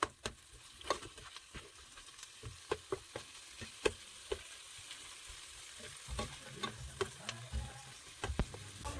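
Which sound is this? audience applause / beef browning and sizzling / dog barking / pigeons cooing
beef browning and sizzling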